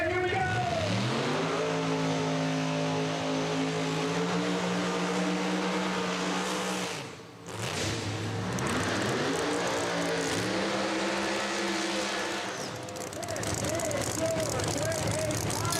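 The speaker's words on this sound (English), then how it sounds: "Let's take a look at the final round race at New England Dragway for their grade 8, which was Daddy Dave versus Scott Taylor." Drag racing cars in a final-round grade 8 race at New England Dragway roar loudly, their engines revving up in long rising pulls, falling away briefly and then climbing again as they launch down the strip.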